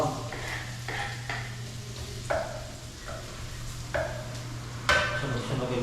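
Garlic and ginger sautéed in a pan, a steady sizzle with rhythmic stirring scrapes every second or so over a constant low hum, no talk.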